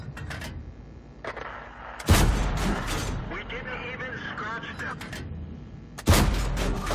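Tank cannon fire in the World of Tanks video game: two loud booming shots a few seconds apart, each with a sharp onset and rumbling tail, over continuous engine and battle noise with mechanical clanks and a voice talking throughout.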